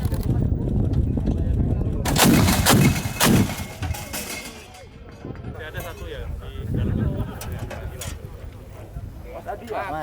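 Army honour salute shots from Indonesian army (TNI AD) weapons boom out as a cluster of loud blasts early on, followed by lingering rumble and outdoor noise, with people talking nearby.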